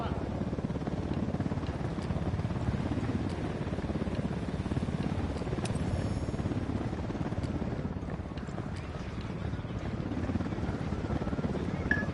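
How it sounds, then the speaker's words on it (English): A helicopter in the video game Ghost Recon roars steadily and loud for the whole stretch, its dense rotor thrum mixed with wind-like rush and faint game chatter. "Chopper incoming."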